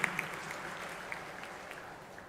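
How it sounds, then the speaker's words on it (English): Faint, distant applause from an audience at the IIT Madras E-Summit, a soft continuous patter with a few sharper claps standing out, lasting only a couple of seconds. "So please give a big round of applause to Swapnil."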